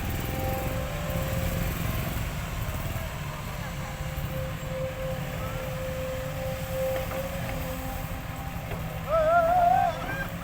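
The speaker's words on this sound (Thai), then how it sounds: "งานนี้ รถไถ รถแบคโฮครับ แท็กทีมทำถนน" A tractor and a backhoe work together on road construction, their engines giving a low, steady rumble at a distance throughout, with a short louder surge near the end.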